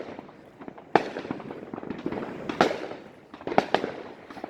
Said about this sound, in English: we've had fireworks going off since mid-morning